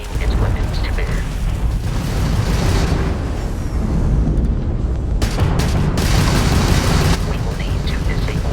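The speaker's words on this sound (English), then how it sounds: "that's a Crimson Fleet ship bringing its weapons to bear" Weapons fire from an enemy Crimson Fleet ship rumbles through a Starfield space combat sequence, with dense, loud booming bursts layered over a constant roar and no clear pauses.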